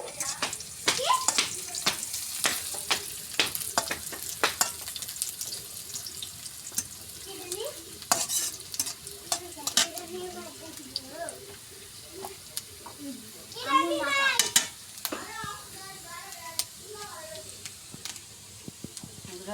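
Cinnamon, white fruit and black cardamom crackle and sizzle in hot oil for a Bengali egg curry, with a steady fry broken by sharp spoon clacks against the pan and a brief burst of stirring.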